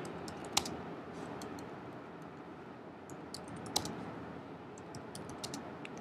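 Faint, sparse key clicks from typing code on a computer keyboard, set against a steady background hiss, with a few sharper taps standing out.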